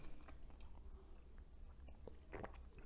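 Close, soft biting and chewing of a gooey chocolate strawberry cake, with moist crunchy mouth noises coming in irregular bursts and no talking.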